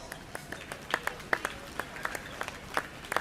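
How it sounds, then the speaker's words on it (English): A small crowd claps for exhibitors at a 4-H/FFA market lamb show, sparse, distinct hand claps spaced irregularly, fairly faint and sounding like a modest gathering in a show arena. "Let's give all the exhibitors a round of applause."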